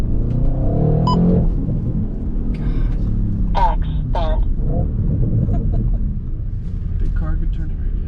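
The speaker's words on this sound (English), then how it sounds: "That's a perfect exhaust noise." A Nissan R32 Skyline sedan's exhaust rumbles with low revving under steady engine drone, while people talk over it throughout.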